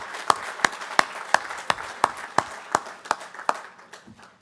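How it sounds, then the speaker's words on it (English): Sparse, evenly spaced hand claps from a small group at a dedication ceremony for an energy storage facility, about a dozen sharp claps in a steady rhythm, moderately near and fairly quiet, with no talking. "let's give them a hearty, well-deserved round of applause"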